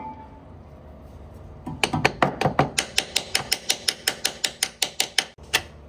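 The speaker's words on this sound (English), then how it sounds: "We're gonna use the socket and tap it very lightly and see if it'll slip onto" A metal socket tapped lightly onto the shift lever of a Chevelle during a transmission swap: about twenty quick, sharp metallic taps in a steady rhythm, close and fairly loud, with no talking.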